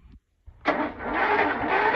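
An old car engine cold-starts without choke: a brief crank, a pause, then it catches and settles into a steady, fairly loud idle.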